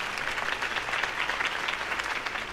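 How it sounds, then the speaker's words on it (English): Sustained applause from an audience following a mayoral campaign speech in a city setting, a dense, steady wash of clapping that stays loud and even throughout with no talk over it. "could have heard that applause"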